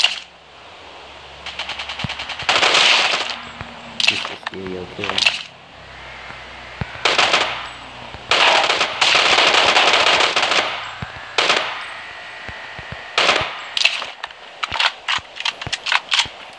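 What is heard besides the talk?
gunfire in Rules of Survival video game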